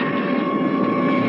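Steady, loud airplane engine drone with a constant hum throughout, an uninterrupted cabin-like roar with no talk over it, used as a sound effect in a mystery radio drama.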